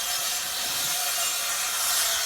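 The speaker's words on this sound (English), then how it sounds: "cutting some more planks" Plastic decking planks being cut on a building site as a steady, harsh, hissing noise that runs unbroken through the whole stretch.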